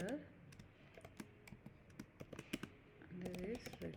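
Typing React code on a computer keyboard: a quick, irregular run of soft key clicks up close, faint overall, with a voice speaking at points over the keystrokes.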